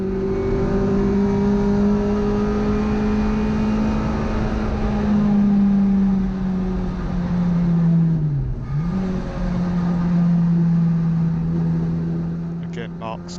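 A classic Mini race car drones loudly around the Brands Hatch circuit on a track day, engine note holding steady, dipping briefly as the driver backs off the power, then rising again with a faint voice at the end.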